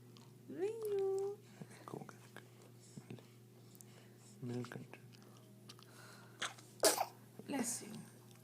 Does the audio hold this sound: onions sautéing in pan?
no